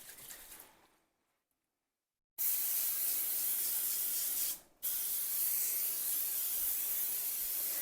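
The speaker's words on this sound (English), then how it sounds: "a baking pan that I am going to spray with the olive oil" After a moment of near silence, an aerosol can sprays olive oil onto a baking pan in two long, loud, hissing bursts, separated by a brief pause.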